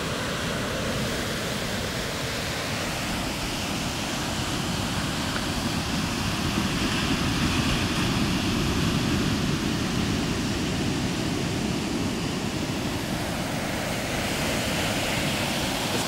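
Ocean waves break continuously in a broad, steady roar of surf, with no voices and a slight swell in loudness midway.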